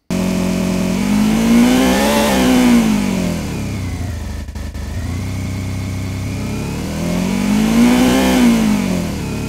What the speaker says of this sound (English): So we could have a two-stroke Suzuki, and we can play that.